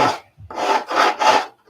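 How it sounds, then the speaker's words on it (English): Sandpaper rubbed along the grain of wood sheeting, heard as four close, loud rasping strokes in an even back-and-forth rhythm, alone with no talk. "Not going cross, not sanding cross grain anyway."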